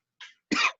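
A man coughs twice in close succession, a short dry first cough followed by a louder, harsher one, near and clear against silence.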